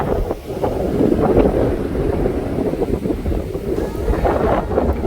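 Hard wind ripping across a fishery lake buffets the microphone in a continuous loud roar with gusty surges, the rumble and hiss steady throughout with no talk.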